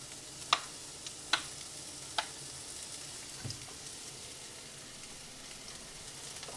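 Green onion, garlic and aromatics fry in oil in a wok with a steady soft sizzle, close but quiet, broken by a few sharp metallic clinks of a utensil against the pan.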